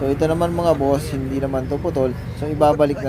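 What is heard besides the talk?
None of the usual background noises is heard.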